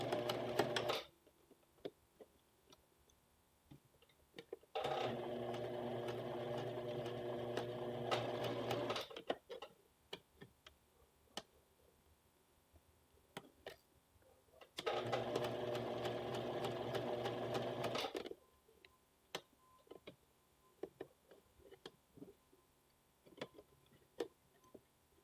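A sewing machine stitches a piped yoke on a western blouse in two long steady runs of fast, even mechanical chatter, separated by quiet pauses with light handling of fabric.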